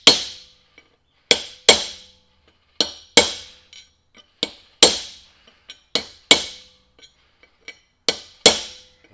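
Sharp metal strikes drive a bearing race into a Mack Cruiseliner truck's front hub, loud ringing blows landing singly and in quick pairs with brief ringing tails and faint ticks between, close and with no talking.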